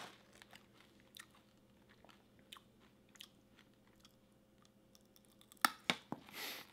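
Peanut brittle candy bitten and chewed, a few sharp crunchy bites near the end after a mostly quiet stretch with faint background hum.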